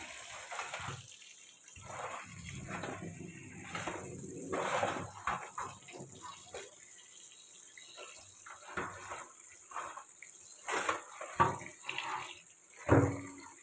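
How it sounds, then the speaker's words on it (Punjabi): Soya chunks being rinsed under a running kitchen tap, a steady stream of water splashing into a sink with irregular sloshes and clatters, close and fairly loud, with no talking. "ਤੇ ਇਹਨੂੰ ਸਾਫ ਪਾਣੀ ਵਿੱਚ ਧੋ ਲਾਂਗੇ ਚੰਗੀ ਤਰ੍ਹਾਂ"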